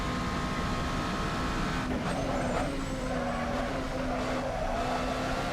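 Race car engine in a racing video game, a steady high drone with a pitch shift around the two-second mark as an early upshift cuts in, continuous and loud with no talk.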